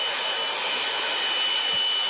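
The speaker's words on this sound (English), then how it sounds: "What's a jet engine?" A steady, close jet engine roar with a broad hiss fills the full stretch, even and unbroken, with no talk over it.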